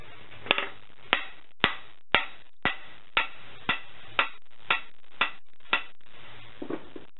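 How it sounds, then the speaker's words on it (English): A dead blow hammer strikes the end of an axe handle knob about a dozen times, evenly spaced, crisp thuds at a steady rhythm, close and clear with no talk. "Dead blow. Hammer works nicely."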